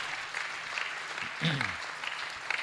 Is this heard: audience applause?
yes